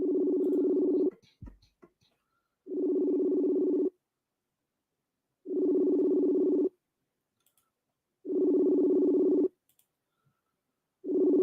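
A telephone ringback tone repeats on a call during a court trial: about five long steady buzzing pulses separated by silent gaps, with a faint click between the first two.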